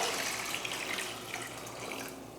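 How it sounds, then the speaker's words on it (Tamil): Water pours steadily into a pot of lentils with turmeric and tomato for sambar, a continuous close splashing trickle for a couple of seconds. "இப்போ தண்ணி சேர்த்து வேக வச்சிடலாம்."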